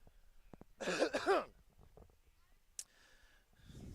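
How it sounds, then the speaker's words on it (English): A person coughs once away from the microphone, a short muffled burst, followed by softer throat sounds and faint noises in a quiet room. "I think it's rather entertaining that I just pull my own mic away and cough"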